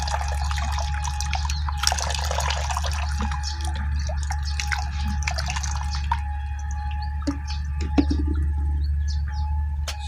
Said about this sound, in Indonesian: Jadi ini bisa kita peras ini air debok pisang tadi.